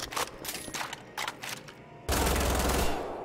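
Gunfire in the video game Wolfenstein: The Old Blood: several quick bursts of automatic shots, then a sustained loud volley in the final second.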